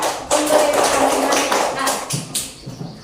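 A classroom of students claps together in a short burst of quick, scattered hand claps that tapers off into a few lighter claps near the end, with a teacher speaking over the start.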